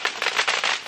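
Homemade fireworks at a backyard show burst into a dense, crackling fizz of rapid pops for about a second, bright and close with no pause between them.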